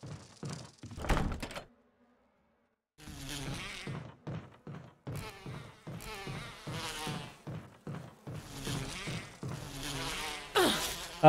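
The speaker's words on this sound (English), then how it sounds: "Oh my god, fucking bees." Bees in the Resident Evil game buzz in repeated short bursts, a rough droning hum that starts and stops rapidly, with a quiet gap near the start and denser buzzing toward the end.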